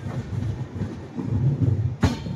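Indian Railways 22625 AC Double Decker train rolling along the rails on the Chennai to Bangalore route, a steady low rumble of wheels with a sharp broadband clack near the end, heard close from onboard with no talking.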